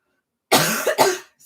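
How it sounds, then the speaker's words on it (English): A person gives a hearty, close cough after wolfing down a sandwich too quickly: two strong bursts about half a second apart, following a short silence. "I need to proper cough. I just wolfed down my sandwich so quick."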